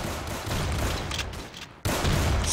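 Bursts of gunfire in a Roblox zombie survival game, loud and continuous rattling shots with a brief break near the end before the firing resumes.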